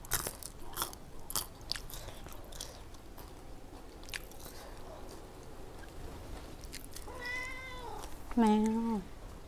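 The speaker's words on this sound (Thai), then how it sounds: "แมว" A cat gives two clear meows near the end, the second louder and closer, after a stretch of scattered clicks and crunching sounds like chewing.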